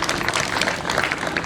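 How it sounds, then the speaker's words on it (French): An audience at a celebration-of-life gathering bursts into steady, dense applause, many hands clapping at once in a moderately loud, continuous wash. "Et je prie l'assistance de bien vouloir donner une salve d'applaudissement"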